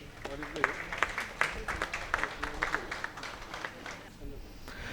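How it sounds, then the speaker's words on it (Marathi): Scattered applause from an audience at an award ceremony in India, with uneven claps rising and falling while a voice speaks over them. "प्रचंड टाळ्या झाल्या पाहिजे."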